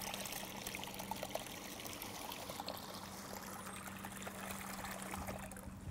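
Water pumped by a Nissan Leaf liquid cooling pump runs as a steady, continuous stream and splash, with a low motor hum underneath, moderately loud and close throughout.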